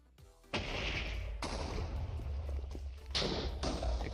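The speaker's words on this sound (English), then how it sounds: "explosions." Loud explosions from the video game Hypixel Skyblock boom in four heavy blasts, each followed by a sustained roar, with the last two arriving in quick succession.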